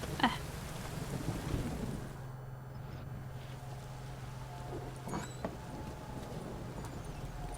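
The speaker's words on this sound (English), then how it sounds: "Just gonna stay out in the rain, eh?" Steady rain with low rumbling thunder in the video game The Witcher 3, a continuous wash of downpour with deep rolling underneath and a few faint sharper knocks, no voices.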